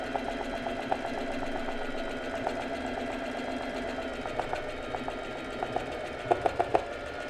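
A home sewing machine embroiders with a straight stitch, giving a steady mechanical whir with quick rhythmic needle clicks that sharpen into a few louder taps near the end, close up and with no talking.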